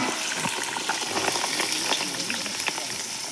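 Chopped onions fry in oil in a pan for a Kathiyawadi village-style vegetable dish, a dense continuous sizzle with crackling pops, close and fairly loud with no talk.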